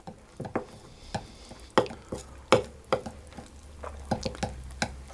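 A spoon stirs lemon liquid into icing sugar, working it into a paste for Italian knot cookies; close, uneven scrapes and soft wet taps come in irregular bursts, with no talking.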